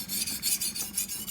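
A chef's knife is drawn across a Spyderco Ultra Fine finishing stone, producing quick, rhythmic rasping strokes, about six close, soft scrapes in a brief burst with no talk.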